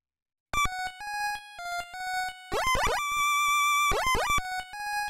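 Chirpy 8-bit synth tones hop between pitches, with quick bursts of rapid rising bloops like bubbles popping in an old arcade game, resembling the bubble sound from Bubble Bobble.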